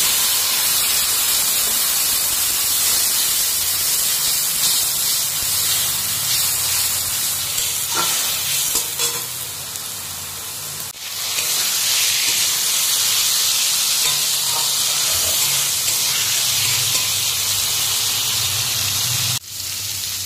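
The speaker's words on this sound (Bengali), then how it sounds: "এবার এই যে মশলাগুলো দিয়ে দিচ্ছি।" Spices sizzle and hiss loudly in a hot pan, a steady close frying noise that runs throughout with brief dips and surges as they are stirred.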